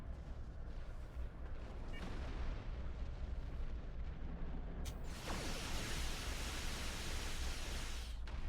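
Starship weapons fire on defense satellites in Star Trek Online: a low, rumbling drone of distant blasts and bursts, then a loud, broad rushing barrage past the five-second mark that cuts off abruptly near the end.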